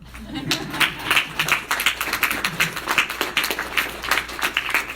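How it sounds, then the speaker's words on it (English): An audience at a Saint Vincent College poetry reading applauds, a lively, even wash of many hands clapping close by that carries on for the whole stretch, with a faint murmur beneath. "So now you can clap."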